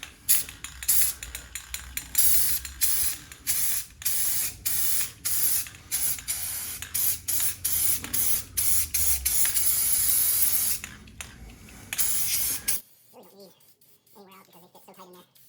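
An aerosol spray can hisses in repeated bursts while Kubota BX2200D tractor wheels are painted up close, with rattling can clicks between passes; a voice is heard briefly near the end.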